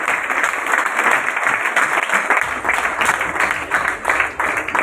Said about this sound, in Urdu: آپ کی بھرپور کلیپنگ ہونی چاہیے